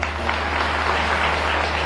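A gathering of women at a rural outreach meeting breaks into applause, a dense, steady patter of many hands clapping at once for a couple of seconds.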